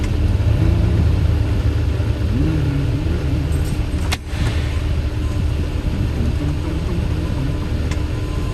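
A truck rolls into a fuel pump area with a loud, steady engine rumble heard from inside the cab, a gear-like whine rising and falling, and a sharp click midway.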